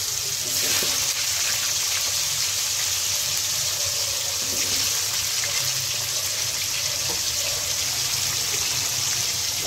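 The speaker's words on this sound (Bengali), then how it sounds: "এখন আমরা ভাজি করব।" Cut potatoes fry in hot oil in a wok, a steady, even hiss of bubbling oil that holds at a constant level without pause and with no voices.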